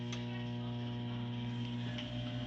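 A microwave oven runs just after start is pressed, giving a low, steady electrical hum with a faint ticking throughout, fairly quiet and with no voices.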